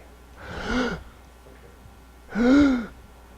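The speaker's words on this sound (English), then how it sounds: "I think I'll just inhale today." Two deep, audible breaths during a Chi Gung breathing exercise, each a slow, swelling inhalation lasting about half a second, separated by a quiet pause and heard close up.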